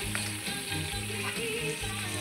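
Meat and chayote sizzle steadily in a hot pan, a continuous crackling fry heard up close with no talk.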